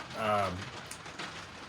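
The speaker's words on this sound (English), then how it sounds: "Sorry about the rain on the roof." Heavy rain pours steadily onto a roof, a dense continuous hiss that fills the clip, with a brief droning tone near the start.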